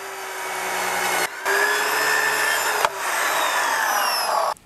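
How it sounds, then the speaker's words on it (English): A track saw cuts along the edge of wooden terrace decking, loud close whining bursts of blade through wood broken by brief pauses, alone without talk. "To trim the edge of the terrace, I used my track saw."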